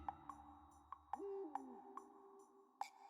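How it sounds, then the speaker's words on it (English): A scary owl hoot from the video game Wintermoor Tactics Club, a gliding, wavering call heard once near the middle, set against a steady beat of soft woodblock-like knocks and quiet background music. "Like a really scary-sounding owl hoot?"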